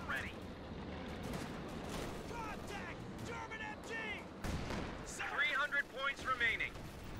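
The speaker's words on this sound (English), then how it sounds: "MG doing work again here" Machine gun fire in Company of Heroes 2, a 2v2 match on Crossing in the Woods, with rapid bursts and distant artillery thumps throughout, loudest near the end, under a commentator's voice.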